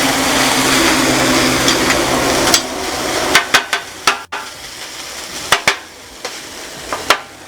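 Fried rice with sesame oil and salt sizzling steadily in a hot pan, a loud continuous hiss broken by sharp clanks and scrapes of a utensil stirring against the metal, close by with no talking.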